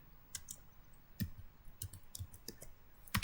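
Keys clicking on a computer keyboard while a router neighbor command is entered, a few sharp separate taps ending in one firm press, fairly quiet and close with no talk.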